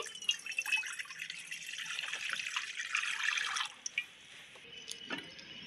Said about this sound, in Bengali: ডিম সেদ্ধ করার জন্য আমি জল দিয়ে দিচ্ছি